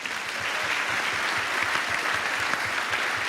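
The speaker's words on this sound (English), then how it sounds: "You can give yourselves a quick round of applause." A studio audience at a televised panel discussion gives a quick round of applause, dense and even clapping filling the room for a few seconds with no voices over it.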